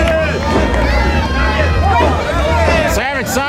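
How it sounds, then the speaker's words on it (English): A wrestling crowd at a live lucha event roars and cheers in a loud continuous wall of noise, with an announcer talking over it. "The crowd immediately shows a positive response right there."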